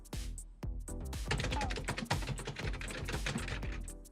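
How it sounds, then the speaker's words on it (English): Fast typing on a computer keyboard in an office, dense rapid key clacks in a busy, continuous run after a couple of isolated taps, loud and close. "With my top-tiered typing certification, I'll be done in no time."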